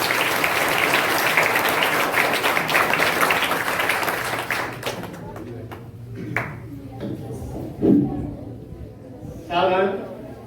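Loud applause from an assembly at a primary gurukul school, dense clapping that fades out after about four seconds, followed by scattered knocks and a voice speaking.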